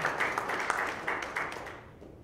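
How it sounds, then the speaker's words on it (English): Scattered applause from a conference audience after a software talk, moderately faint clapping that swells in a few uneven bursts and then fades out. "Yeah, you can clap."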